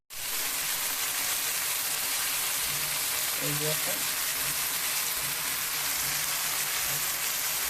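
Eggplant frying in plenty of oil, a steady dense sizzle running throughout, loud and continuous, with a brief low voice passing faintly underneath partway through.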